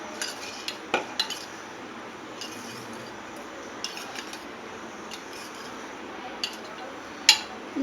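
A spoon scrapes and clinks against a bowl while mixing onion raita with vegetables, soft intermittent taps and a few sharper knocks over a quiet background, no talking.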